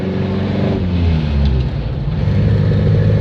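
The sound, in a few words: Morris Oxford car engine and exhaust while driving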